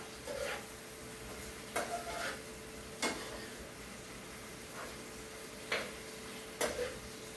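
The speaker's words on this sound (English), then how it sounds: "stir it really well" Quiet kitchen scene with scattered light scrapes and clicks of a spoon stirring food in a pot, a few distinct strokes spaced irregularly over a faint background hum.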